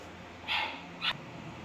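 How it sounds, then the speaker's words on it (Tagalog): A puppy gives two short, sharp yaps about half a second apart, fairly close and alone against a quiet background. "ang ingay ng tuta"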